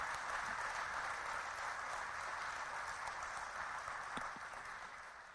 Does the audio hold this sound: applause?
yes